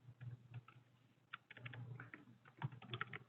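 Quick, light clicks of typing on a computer keyboard in a quiet room, landing in uneven short bursts with no voices.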